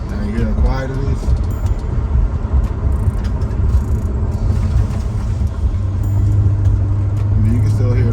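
Low, muted engine rumble and road noise inside a Maserati GranTurismo cruising on the street with sport mode off, a steady hushed drone with faint bumps.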